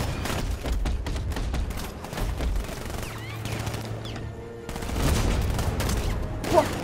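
Sniper gunfire in the video game Batman: Arkham Knight, a dense run of sharp shots and impacts from a few seconds of firing, loud and close, with a brief lull before more bursts.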